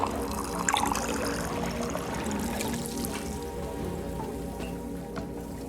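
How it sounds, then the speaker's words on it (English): Liquid poured out of a cup in the video game Wanderstop, heard as a steady splashing, trickling wash of water that runs continuously and fairly loud throughout. "And we'll pour the rest of it out as well."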